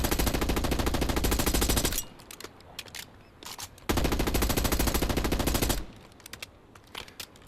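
Long bursts of rapid automatic fire from the KSV submachine gun in Black Ops 6, two extended volleys separated by short pauses filled with mechanical clicks and handling noises.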